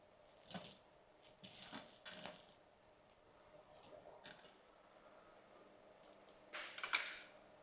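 A knife cuts peeled potatoes into pieces on a kitchen board, giving a few soft, irregular chops and clicks. The sounds are faint and spaced apart, with no talking.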